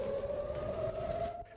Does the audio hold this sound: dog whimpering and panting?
no